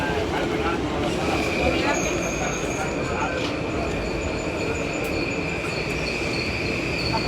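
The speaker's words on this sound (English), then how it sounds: "You see how long this train is?" A long train rolls along the rails in a steady, loud, continuous rumble, with a thin metallic squeal riding above the noise throughout.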